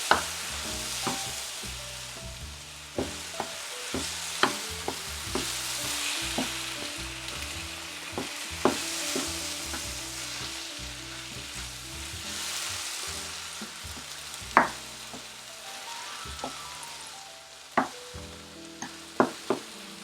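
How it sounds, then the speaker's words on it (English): Tomatoes and eggplant sizzle steadily in a hot pan while a utensil stirs and scrapes, leaving repeated sharp clinks and knocks over the continuous frying. "Now I'm going to add the tomatoes to the eggplant"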